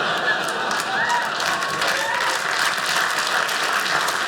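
Steady audience applause fills a comedy club during a stand-up special, a dense, continuous wash of clapping that holds at an even level from start to finish with no voice on top.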